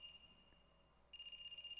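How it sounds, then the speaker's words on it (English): Cell phone ringing inside the Danganronpa video game, a faint electronic trilling tone that pulses steadily and grows louder partway through, with no talk over it. "a phone ringing?"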